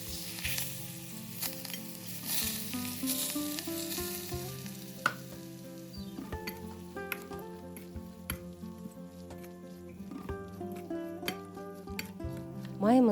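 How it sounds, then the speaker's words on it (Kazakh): Hot oil poured over paprika and spices for a mayonnaise-free salad, crackling in a steady close sizzle while being stirred, with faint scraping and small clinks throughout and no talk. "Үстіне қызып тұрған сұйық майымызды құйып, жақсылап араластырып аламыз."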